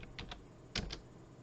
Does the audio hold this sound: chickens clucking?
no